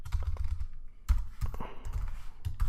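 Close computer keyboard typing, irregular clusters of key taps with short pauses, clear and moderately loud with no talk.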